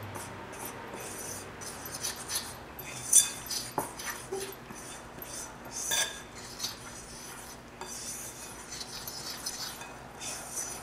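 Pumpkin nut bread batter being mixed by hand in a bowl, a soft steady scraping and rubbing with occasional light clinks of utensil against the bowl, quiet and close, with no talking.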